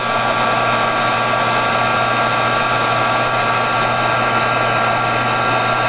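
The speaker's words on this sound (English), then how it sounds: "When you're embossing, you can't wave your gun. You can't wave your heat. You need to have solid heat." A heat gun blows steadily while embossing powder melts on a Christmas tile, a loud, even, unbroken whirring hum held in one spot for the whole stretch.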